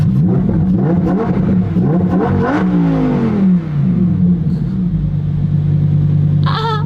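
A 2018 Lamborghini Huracan Performante engine revs hard and loud, climbing and falling in pitch several times before settling into a deep, steady idle rumble.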